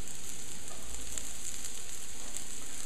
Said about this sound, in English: it's going to release just the right amount of butter so that they'll saute nicely